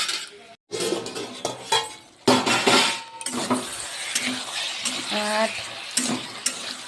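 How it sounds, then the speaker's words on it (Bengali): Spiced masala frying in a pan with fried potatoes and green jackfruit, stirred hard with a utensil scraping and clinking against the metal, with sizzling throughout and a brief pause near the start. "এবার আমি ভেজে রাখা আলু আর ইঁচড়টা দিয়ে ভালো করে কষিয়ে নেবো, একদম পুরো মশলার সঙ্গে মিলে যায়।"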